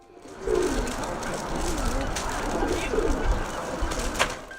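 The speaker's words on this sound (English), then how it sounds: "making the well-known bubbling pigeon call" A pigeon gives its bubbling courtship coo, soft rolling warbles repeating over several seconds, close but gentle, with a voice talking over it and light background noise.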